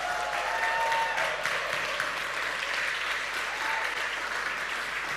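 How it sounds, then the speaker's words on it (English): An audience at a televised talent show claps for a judge being introduced, a steady wash of applause at moderate volume lasting about five seconds with a faint voice near the start. "A round of applause for her."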